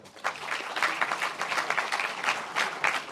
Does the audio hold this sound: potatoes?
no